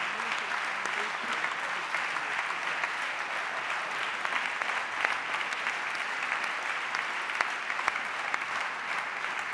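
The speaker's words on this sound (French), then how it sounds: "On l'a déjà applaudi ce matin, je voudrais qu'on le réapplaudisse." Steady audience applause fills a political party council meeting of La République En Marche, a dense, continuous clatter of many hands that stays even throughout with no voices standing out.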